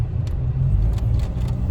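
A 2011 Vauxhall Insignia 2.0 CDTI 160 SRI automatic rolls down a lane, with a low steady engine and road rumble and a few light clinks over it.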